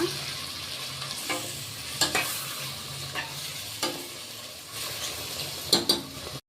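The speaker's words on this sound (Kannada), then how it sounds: "ಇದು ಸಹ ಚೆನ್ನಾಗಿ ಸಾಫ್ಟ್ ಆಗೋವರೆಗೂ ಫ್ರೈ ಮಾಡೋಣ." Chopped tomatoes fry and sizzle steadily in a pan, with a utensil scraping and stirring at irregular intervals and occasional sharp clinks against the metal.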